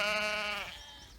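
Sheep bleat in a grazing paddock, one long, loud harmonic call lasting most of a second before trailing off into quieter background noise.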